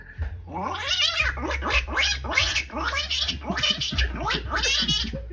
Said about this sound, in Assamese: 3 নম্বৰতে দিছোঁ মই মেকুৰী মাতটো